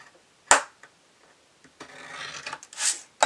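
A blade scores a wooden piece for a small craft box, giving sharp scraping strokes after a few quiet taps, with short rasping bursts toward the end.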